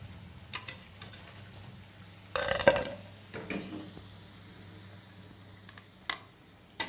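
Masala vada, lentil fritters, fry quietly in oil with a soft sizzle, broken by a short burst of spatula scraping and turning in the pan, plus a few later clicks.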